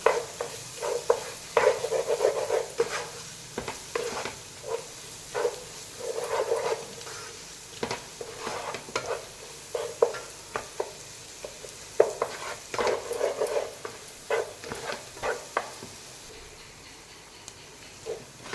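Biryani masala frying with tomato for paneer dum biryani, stirred in the pan. A low sizzle sits under frequent scraping and clattering spoon strokes across a long stretch, with no talk.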